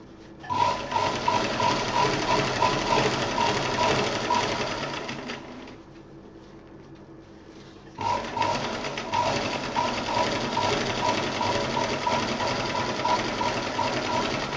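A sewing machine stitches a handbag in a steady fast whirring run, pauses for a couple of seconds of near quiet, then starts again and runs continuously, close and clear with no talking.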